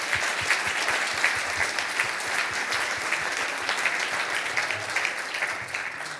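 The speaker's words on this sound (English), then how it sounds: "A big round of applause for S." Sustained audience applause fills a conference hall after an onstage conversation with designer Es Devlin, dense steady clapping from a large crowd at even loudness with no voices over it.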